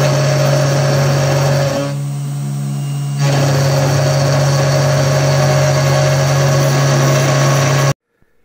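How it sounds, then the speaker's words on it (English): A CNC mill with a 3mm bit planes a faceplate with steady, loud machine whine. The tone drops briefly near the middle, then resumes and cuts off abruptly at the end, with no talking. "3mm bit, and it's literally just going back and forth and planing, looks like a millimeter at a time"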